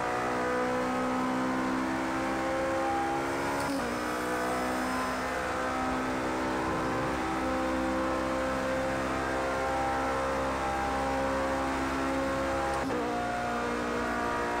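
A Toyota Le Mans prototype race car in Project CARS 2 revs its engine in a steady, loud, whining drone with rising harmonic tones and two brief gear-shift breaks, without voices.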